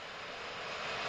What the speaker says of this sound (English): I'd like to see some jet planes, then.